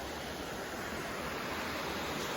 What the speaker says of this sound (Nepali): वाटरफलको आवाज पनि आइरहेको छ यहाँ आएपछि।